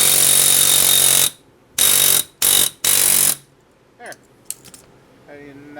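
Bursts of harsh, rapid hammering on a 2005 Pontiac Montana's front axle to bust it loose, four loud chattering blasts separated by pauses, followed by faint clinks and a short metallic ring.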